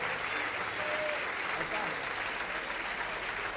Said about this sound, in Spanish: Un aplauso para el mirá, Indio Márquez